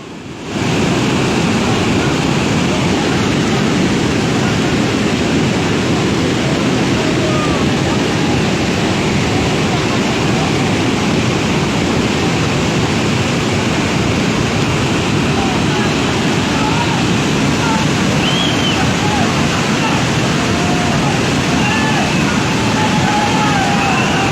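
A constant loud roar of floodwater rushing over a road in Mansehra, Khyber Pakhtunkhwa, fills the scene, steady and broadband, with faint voices beneath it.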